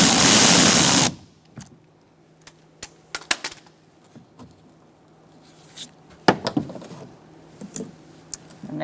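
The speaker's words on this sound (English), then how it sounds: "Now we're going to take out the other 2 screws." A power tool spins out a screw from the rear door of a 2004-2009 Mazda 3 in one brief loud whir, followed by scattered light clicks and taps of handling parts.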